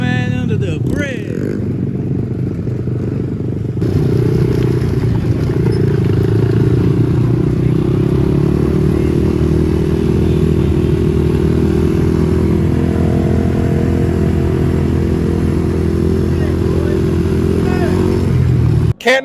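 A 2023 Honda CRF 110 mini bike with BBR parts idles and revs loudly beneath a bridge, its engine droning steadily up close among other mini bike engines, with people talking over the rumble.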